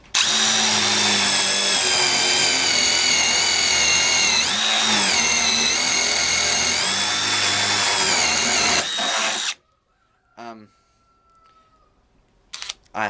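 A power drill with a standard bit bores a hole, a loud, continuous high whine lasting about nine seconds that dips briefly midway, then cuts off, followed by faint handling clicks.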